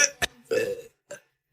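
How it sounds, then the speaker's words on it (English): A forced burp from chugging a drink, one loud guttural belch in the middle, with a short click before it and a faint smaller gulp after, otherwise quiet. "Chugging the shit out of us just to force burps."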